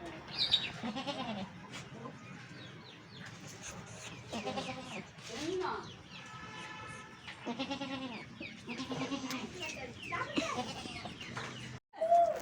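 Newborn goat kids bleating at home, a string of high, wavering calls spread irregularly through the clip, some close and loud, others softer, with short quiet gaps between them.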